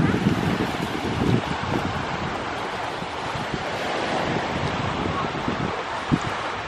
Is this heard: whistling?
no